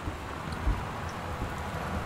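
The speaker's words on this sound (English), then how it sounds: "It's a very rainy day." Steady rain falls with low rumbles of thunder in the video game Gone Home, a dense, continuous wash with no voices.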